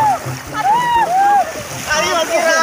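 Water splashes loudly as someone is doused outdoors, with bursts of pouring and splattering under voices calling out close by.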